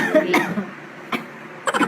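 A few short coughs close to the listener, separated by quiet pauses, with a cluster of quick coughs at the end.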